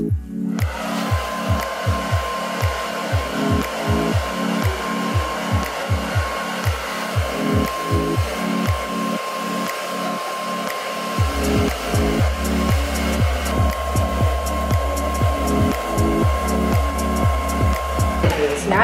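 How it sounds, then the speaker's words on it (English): A hair dryer blows steadily at close range while hair is blow-dried upside down for volume, its whine and airflow continuous, with a pulsing, buffeting rhythm as it moves through the hair. "we're gonna blow dry it in to get maximum volume"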